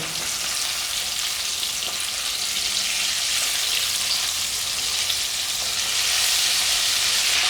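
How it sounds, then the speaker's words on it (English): Garlic chicken thighs shallow frying in hot oil, a steady, dense sizzle and crackle that stays loud and even throughout with no talking. "this is like shallow frying over here"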